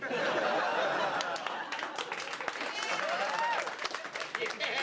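A television studio audience bursts into steady applause, mixed with some laughter and crowd noise, holding at an even level for several seconds.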